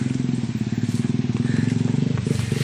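A motorcycle raised high off the ground putts along close by on a rural track, its engine thumping in a fast, steady pulsing rhythm that stays level throughout.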